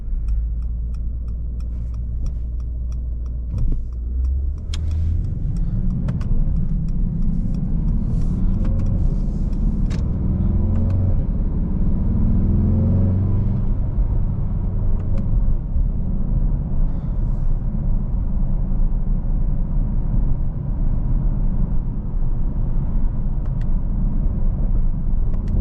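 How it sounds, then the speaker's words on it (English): A 2020 Mercedes-Benz E63S AMG Wagon drives along, its engine a deep, steady rumble that swells briefly under acceleration in the first half, then settles into a constant low drone with road noise inside the cabin. "There's just something about an AMG engine that"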